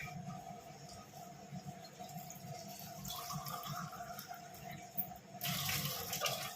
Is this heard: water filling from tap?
yes